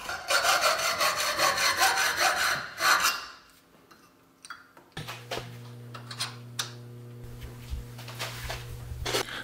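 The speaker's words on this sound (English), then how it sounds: "what I'm just gonna do is cut off the top of that" A metal brake mechanism part for a homemade boat-tail speedster is cut, with a few seconds of loud, rapid rasping strokes at first, then a pause, followed by a steady hum with scattered clicks and scrapes.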